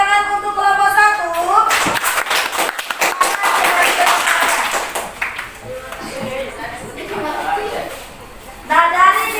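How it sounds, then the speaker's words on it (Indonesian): Students clap for a group after its presentation in a classroom lesson, a burst of applause between stretches of a teacher's voice, fairly close and filling the room. "beri tepuk tangan untuk kelompok 1"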